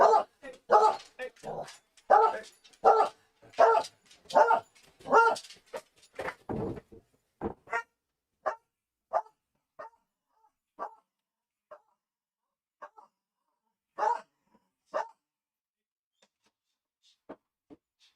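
A dog barks at a package delivery, a run of loud, rhythmic barks close by that thin out into scattered, quieter yips and woofs with long gaps between them.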